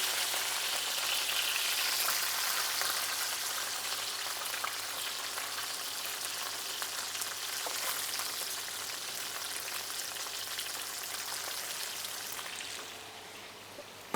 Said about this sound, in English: Our oil is now hot. We are going to continue with putting some bit of onions.